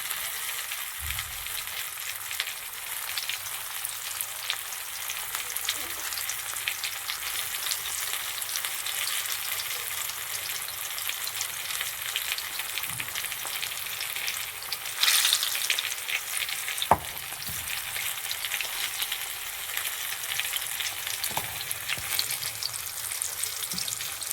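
Pea kofta frying in hot oil, an even, steady sizzle throughout with occasional soft clicks and a louder clatter of a utensil midway, no talking.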